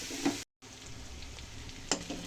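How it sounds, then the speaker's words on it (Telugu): Onions frying in a pan for a chukkakura tomato curry, a steady close sizzle with a couple of stirring clatters and a brief silent gap near the start. "ఈ ఉల్లిపాయలు మనకు బాగా మగ్గాలన్నమాట. దీన్ని కాసేపు బాగా మగ్గనిద్దాం."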